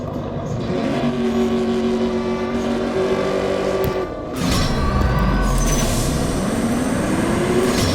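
A race car engine in a racing video game drones steadily, then cuts briefly and surges back louder with rising revs and a rushing roar, no voices present.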